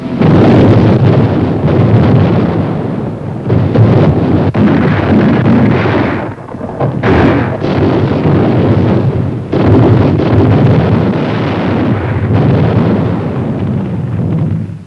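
Heavy, continuous booming of distant Japanese naval guns, rumbling like thunder, loud and sustained with deep low-end blasts.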